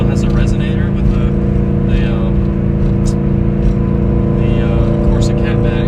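A Scion FR-S with a Corsa catback exhaust, muffler and resonator drones steadily at cruising speed, a loud continuous low tone with layered harmonics, heard from inside the car.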